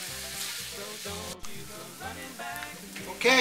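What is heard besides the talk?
bacon frying in a skillet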